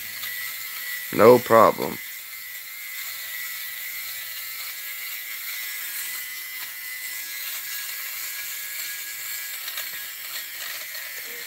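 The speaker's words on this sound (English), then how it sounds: "It's called a lint shaver" A cheap electric lint shaver hums over fabric with a thin, steady whir that runs on for several seconds after a brief spoken remark near the start.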